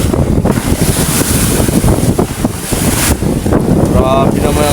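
Big sea waves churn and slap around a boat running in strong northeast monsoon wind off Mulanay, Quezon, with loud continuous wind buffeting the microphone and surging water throughout.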